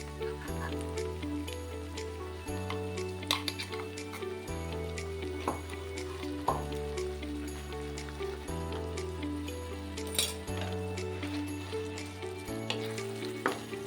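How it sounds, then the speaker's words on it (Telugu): A paste of ginger, garlic, green chili, tomato and onion fries in a pan with a continuous sizzle. A periodic humming tone and occasional stirring clinks run under it, and no voice is heard. "ఇప్పుడు ఈ పేస్ట్ కూడా బాగా ఫ్రై అయ్యేంత వరకు పచ్చివాసన పోయేంత వరకు ఫ్రై చేసుకుందాం"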